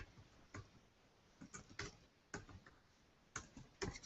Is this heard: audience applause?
no